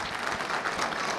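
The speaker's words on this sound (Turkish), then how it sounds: "Çok güçlü bir alkış." A crowd at a community fundraising gathering claps for a short stretch, a dense and even burst of applause heard fairly close, with no talk over it.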